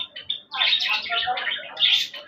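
Pet Java sparrows chirp close by in rapid, overlapping bright tweets, a short busy burst of calls after a few isolated chirps.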